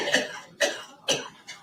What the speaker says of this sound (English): Ooh, that coughing.